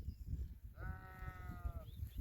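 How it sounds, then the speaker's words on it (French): A single sheep bleats once in a drawn-out, wavering call outdoors among flowers, somewhat distant, with faint wind and rustling around it. "Ils se sont un peu rapprochés là de nous les moutons."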